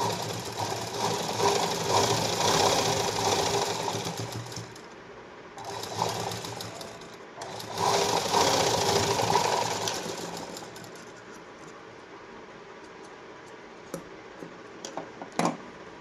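Sewing machine stitching a bowl-style blouse, close rapid mechanical whirring in two bursts separated by a pause, then quieting to a few faint clicks and taps.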